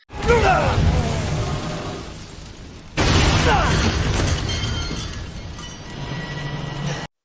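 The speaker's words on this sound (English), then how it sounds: "This explosion caused a ladder to fall down and us to escape." Two heavy explosion blasts in the Resident Evil video game, each a loud booming burst with crashing debris and rumbling tails, the second hitting about three seconds after the first, with some faint talk mixed in.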